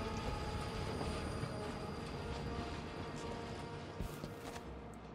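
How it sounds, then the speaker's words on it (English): A train in the video game Dishonored 2 rolls in with a steady mechanical rumble and metallic wheel screech, loud and continuous throughout, with no one speaking. "Yep, now the train's coming."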